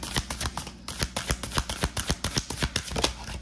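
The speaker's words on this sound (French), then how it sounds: "les cartes se mélangent très très bien" A deck of Celtic spirit oracle cards shuffled up close, producing a rapid, regular run of crisp card slaps and flutters that keeps a steady rhythm from start to finish.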